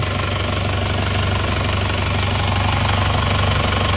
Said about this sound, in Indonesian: Untuk mesinnya suaranya halus ya, ini suaranya halus